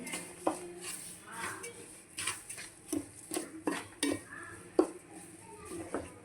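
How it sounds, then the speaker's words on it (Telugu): Wheat semolina kesari with sugar being stirred in a pan, a spoon clinking and scraping against the metal in irregular knocks, close and fairly loud, with a faint sizzle beneath. "మంచి కలిపేసుకోండి."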